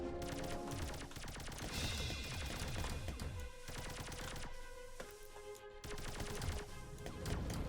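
Shots fired from a spaceship in Rodina, a loud chaotic barrage of rapid mechanical gunfire and crashing impacts, with brief lulls between clusters of dense firing.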